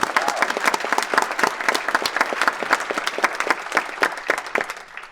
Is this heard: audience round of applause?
yes